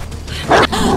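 Dog in the video game Die Young barking and yipping close by, a quick run of sharp, loud barks with a whimpering edge within a single second.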